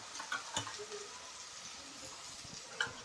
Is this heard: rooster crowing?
no